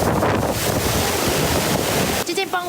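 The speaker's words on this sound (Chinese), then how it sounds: "整个台东被暴风圈包围，阵阵强风袭来" Strong typhoon wind gusts batter an open street in Taitung during a landfalling storm, a loud continuous roaring rush buffeting the microphone, easing briefly near the end as a faint voice cuts in.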